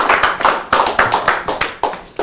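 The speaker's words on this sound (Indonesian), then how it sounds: "Tepuk tangan untuk Mas Panji Pragiwaksono." An audience gives a round of applause for the comedian Pandji Pragiwaksono on a talk show. Claps land in a rhythmic, near burst of sharp, distinct hits, loud and close, with no talking over them.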